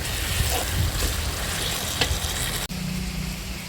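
Ginger garlic paste frying with onions and tomatoes in a pan for a restaurant-style paneer curry, a steady close sizzle with a few faint clinks of stirring throughout.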